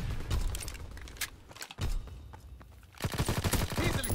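A PPSh-41 submachine gun rattles out rapid automatic bursts in Call of Duty WWII, close and loud, with brief pauses before a final heavy burst.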